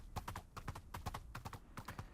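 A bred horse gallops in a survival video game, its hooves drumming in quick, steady triple-beat clusters, close and continuous with no talk.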